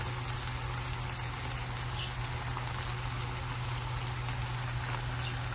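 Vegetables sizzle in a hot pan while being fried for veg fried rice, a steady, soft, continuous crackle and hiss with a low background hum and no talking.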